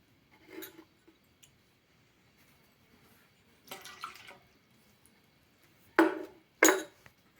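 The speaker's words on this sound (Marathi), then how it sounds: "आता ते पाणी ओतून द्या." Coloured water from a children's magic-water colour activity is tipped out in a few short, splashy pours, the last two loudest, separated by quiet pauses.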